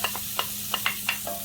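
Chopped scallion dropped into a hot pot of boneless curry goat, giving a steady sizzle with a few quick stirring clicks and scrapes close by.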